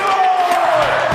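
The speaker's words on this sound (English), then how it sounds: "And the crowd is on edge." Crowd cheering at a WNBA basketball game in a TV advert, a loud continuous roar of many voices throughout, with a voice and music riding over it.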